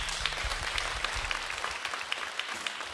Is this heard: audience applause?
yes